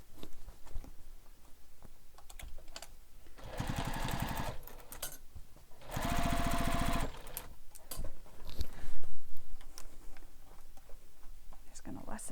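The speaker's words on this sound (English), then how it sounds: "Now we're going to sew this using the seam allowance given in the pattern." A sewing machine stitches the seam of a fabric beach bag in two steady, close bursts of rapid whirring, with quieter handling of fabric and clips around them and a person speaking at times.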